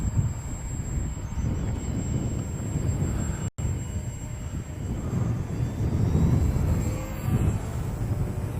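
An old STEM-project model airplane flies under engine power, a continuous droning engine sound rising and falling as it climbs, with a momentary dropout partway and no talk.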